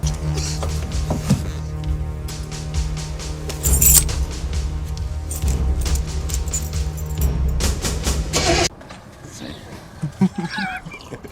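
Car keys jangle and clink repeatedly for about nine seconds in a dense, close metallic rattle, with low thumps and handling noise mixed in, before cutting to a quieter stretch with faint movement.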